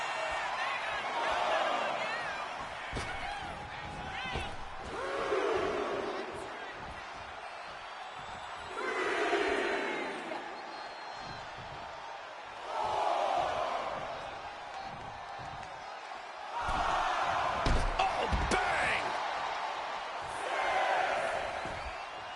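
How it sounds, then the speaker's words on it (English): Video game crowd in a WWE 2K wrestling match roars and cheers in repeated swells between quieter gaps, with commentary voices talking over it. "He's pumped up, and so is this crowd."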